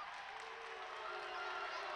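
A dense crowd roar fills a high school boys' basketball gym, steady and distant with no distinct peaks, carrying a broad mix of cheering and jeering.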